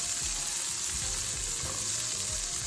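Green chillies and small onions fry in hot oil for a Sri Lankan crab curry, a steady close sizzle with soft stirring scrapes underneath, constant and unbroken with no talking.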